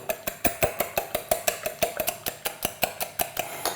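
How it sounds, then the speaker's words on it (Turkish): A whisk beats eggs with a little salt in a bowl for a keto quiche, a quick steady rhythm of clinking, tapping strokes against the bowl with no talk over it. "biraz tuz atarak çırpıyorum"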